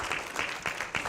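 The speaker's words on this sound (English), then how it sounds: "Give them another round of applause." Conference audience of math educators applauds, a short continuous wash of many hands clapping, moderately loud and slightly distant, with no voices over it.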